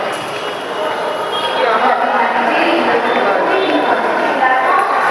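Ambience of a railway station with trains, a steady broad rumble and hiss of rail traffic and crowd noise throughout, with indistinct voices mixed in.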